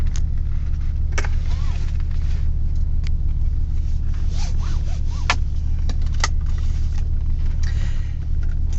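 Interior of a 1995 Nissan 300ZX Twin Turbo on a test drive, with a steady low engine and road rumble throughout and occasional brief clicks and rubbing noises from the cabin.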